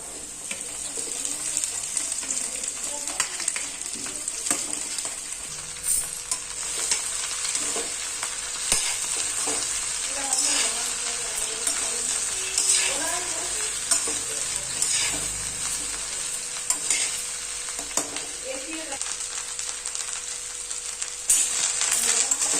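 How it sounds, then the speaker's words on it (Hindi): Okra (bhindi) frying in a pan on a steady, bright hiss of hot oil, with frequent close scrapes and clinks of a spatula stirring against the metal, continuous and without talk. "इसको लाल भी होते तक तलना है भिंडी को"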